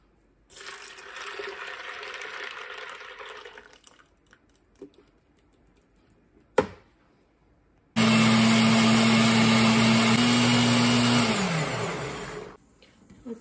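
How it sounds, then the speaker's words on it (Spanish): A kitchen blender grinds peanuts with a can of evaporated milk in two loud bursts. The motor whirs for several seconds, pauses with a sharp knock, then runs again with a steady hum that drops in pitch before cutting off. "los vamos a moler junto con una lata de leche evaporada"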